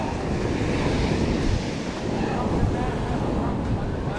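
Ocean surf washes steadily onto a Santa Cruz beach, a continuous broadband roar of breaking waves with wind buffeting the microphone throughout, loud and close.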